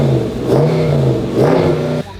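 A car engine in Iraq revs loudly and close by, its pitch climbing and falling in two strong surges before dropping away abruptly at the end.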